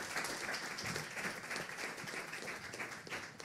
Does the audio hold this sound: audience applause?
yes